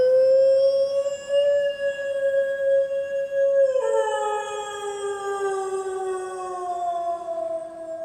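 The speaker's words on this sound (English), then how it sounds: "goes to his mom's grave, where he howls at the moon" Legoshi, the wolf from the Beastars anime, lets out a long, sustained howl at the moon, a clear tonal wail that steps down in pitch midway and keeps sliding lower, alone and prominent.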